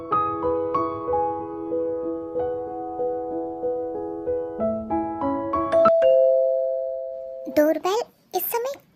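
An electronic doorbell plays a repeating melodic chime, ending on a long held note, followed by a few brief voices.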